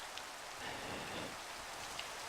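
Steady rain in a Minecraft video game hisses evenly throughout, a dense, soft wash of droplets with no voices over it.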